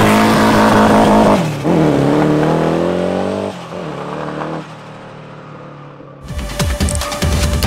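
A 400hp turbocharged Volkswagen Beetle roars under hard acceleration, its engine note climbing through gears and dropping at shifts, then easing off before a sharp burst of turbo whoosh and rattling mechanical noise near the end.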